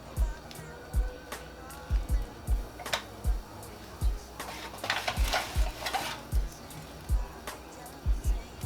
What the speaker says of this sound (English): what we want to do is stir this up